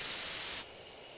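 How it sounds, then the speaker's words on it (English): A bright, loud hiss from a sprayer releasing a drug in the game Spirit Hunter: Death Mark, holding steady for about half a second, then cutting off abruptly to a faint residual hiss. "Take careful aim and spray the drug."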